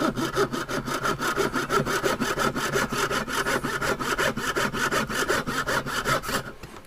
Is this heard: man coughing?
no